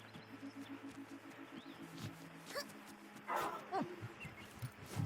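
A dog barks in the video game Last Day of June, a few yips and barks mixed with faint whimpers over a quiet game soundtrack and soft footsteps, moderately close.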